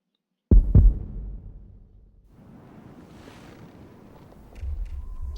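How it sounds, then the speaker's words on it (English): Heartbeat effect in the video game Chrono Cross: two heavy low thumps close together near the start, then a dim, airy wash of ambience that swells again toward the end, with no talking. "A heartbeat."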